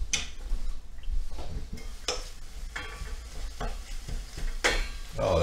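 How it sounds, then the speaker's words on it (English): Cooking pork stirred in a hot pan, a steady sizzle broken by repeated scraping and clattering strokes of a utensil against the pan, close and fairly loud, with no talking. "I'm going to go ahead and stir it."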